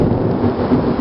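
Thunder rumbles loud and close during a neighborhood thunderstorm, a deep sustained roll with the hiss of rain beneath it.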